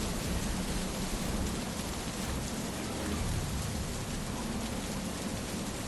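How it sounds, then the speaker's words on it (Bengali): Heavy rain with wind in a horror cartoon scene, a dense, constant roar of downpour with low rumbling underneath, steady and loud throughout. "হঠাৎ উঠল হাওয়া আর সেই সঙ্গে বৃষ্টি।"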